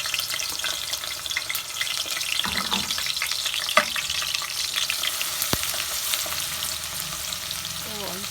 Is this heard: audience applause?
no